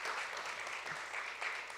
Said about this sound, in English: Clap for that, man.